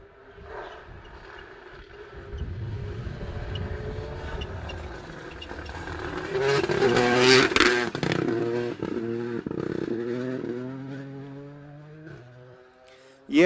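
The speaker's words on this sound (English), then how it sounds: "You hear the distinctive 3-cylinder engine note of the Yaris in the distance here." A Toyota Yaris rally car with a three-cylinder engine runs on a rally stage, distant at first, then growing louder as it revs and shifts through several rising pulls before fading away.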